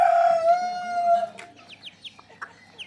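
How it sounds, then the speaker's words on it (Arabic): Chickens in a coop give a long crowing call followed by a run of short, sharp clucks, close and loud with no talk over them. "من تدخل تلقاك الدجاج"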